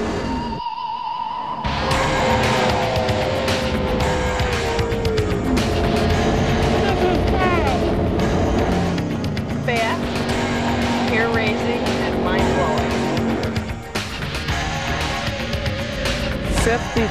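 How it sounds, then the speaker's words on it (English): Racing powerboats at the start of a 1997 poker run on the Saint Lawrence, around Montreal and the Thousand Islands, their thousand-horsepower engines throttling together in a dense, loud, continuous roar, with a voice talking over the engines. "Thousand horsepower throttling together. The start is the biggest rush."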